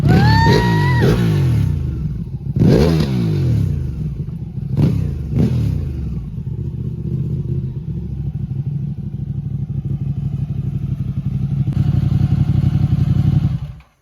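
Ducati Panigale sport motorcycle ridden hard, loud engine revving and accelerating through several gear changes, with rising pitch sweeps early on, then a sustained roar that swells near the end before cutting off.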